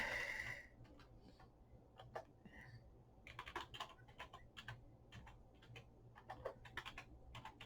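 Fingers type on a computer keyboard, a quiet, irregular run of close key clicks in short bursts with brief pauses between them.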